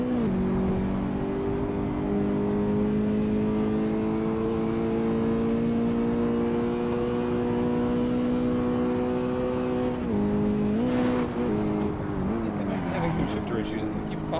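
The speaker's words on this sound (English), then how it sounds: "Popping out of fifth gear." Fiat 500 Abarth engine in Assetto Corsa droning at steady high revs, then dropping and wavering as it pops out of fifth gear near the end, a loud continuous hum under faint background noise.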